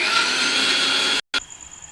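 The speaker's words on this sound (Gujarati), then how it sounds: "તો આપણે એને મિક્સરમાં કાઢી લેવાના છે ટમેટા" A mixer grinder whirs loudly and steadily while blending tomatoes, then cuts off abruptly, followed by a brief restart blip and a faint high whine.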